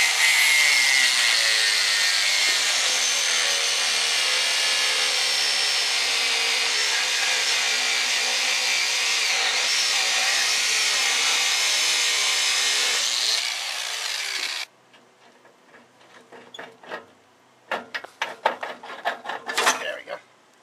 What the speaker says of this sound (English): So I got my grinder out here. Let's see if I can cut right there very carefully and get that off.